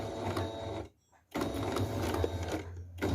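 A sewing machine stitches quilt pieces with a quarter-inch seam, its close, steady mechanical whir pausing briefly and then resuming at an even pace.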